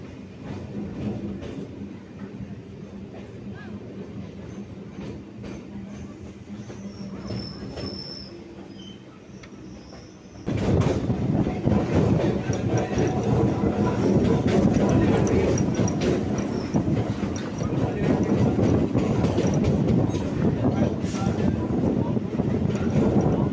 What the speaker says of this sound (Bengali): আমাদের ট্রেন চলে এসছে নিউ আলিপুর স্টেশনে